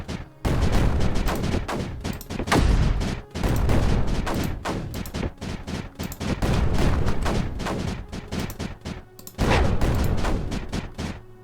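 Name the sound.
cannons firing in video game Creeper World 4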